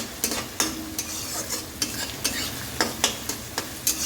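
Chicken meat stirred and fried in a pan at home: a steady hiss of frying under about a dozen regular scraping strokes of a spoon, close and clear.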